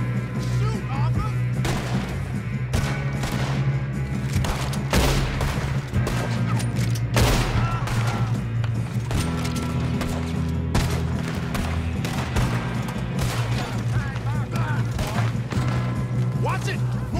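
Heavy gunfire fills a shootout in Red Dead Redemption 2, with dense rapid shots and loud cracks piling over each other from start to finish. Voices shout amid the shooting, over a steady rumble of background game sound.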